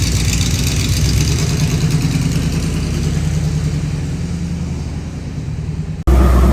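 A Chevrolet squarebody pickup truck engine idles with a deep, steady rumble close by, then a sudden cut and a louder burst as it revs up at the end.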